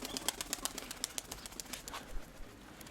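Pigeons taking off on their first outing, a busy run of soft, fluttering wing flaps and rustles repeating quickly and fairly faintly throughout, with no voices.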